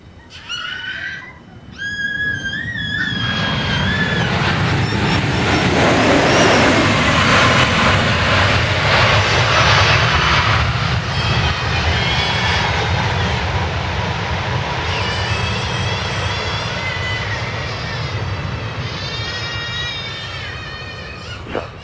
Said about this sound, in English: Flight 9, Southwest Airlines from Milwaukee, Wisconsin, a MAX 8.